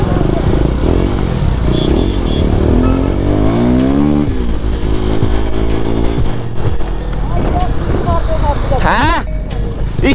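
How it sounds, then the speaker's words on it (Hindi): A motorcycle engine revs loudly while being ridden, rising and falling in pitch with a sharp climb near the end, under almost continuous talking from a rider. "भाई, पावर बहुत ज्यादा है इस बाइक में, बहुत ही नेक्स्ट लेवल पावर है यार।"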